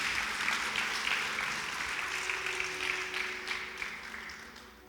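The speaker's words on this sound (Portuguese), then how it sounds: "Pode aplaudir, que você está aplaudindo a Jesus." A church congregation claps at a Portuguese-language sermon, a dense burst of applause from many hands that starts loud and slowly tapers off across a few seconds.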